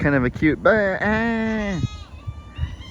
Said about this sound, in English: I don't even know what you call that noise that goats make.